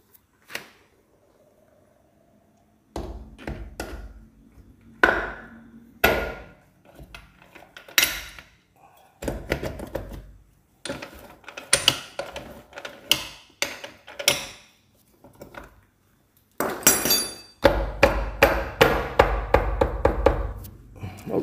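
A motorcycle crankcase being closed up: sparse metallic clinks, taps and knocks of parts being fitted, near and clear with quiet gaps between them, ending in a busier burst of clattering.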